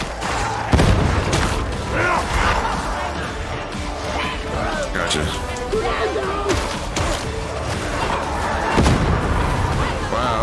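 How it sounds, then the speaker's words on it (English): Grenade blasts and booming gunfire in Warhammer 40,000 Darktide combat, dense and loud with repeated heavy impacts through the fight, while someone talks over the action. "Ooh, nice grenade over to that."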